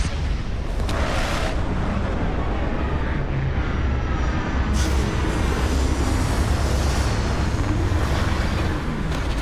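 A big, powerful spaceship touching down at a landing site in the video game Starfield, a loud, dense roar of engine rumble and hiss that holds steady with surging bursts, alone without talk.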